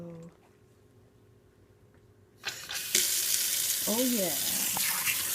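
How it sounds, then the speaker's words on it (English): Water rushes steadily from a Moen Align kitchen faucet with its flow restrictor removed, starting abruptly after a quiet moment and running loud and close into the sink, while a person speaks briefly over it. "And now look at our water flow."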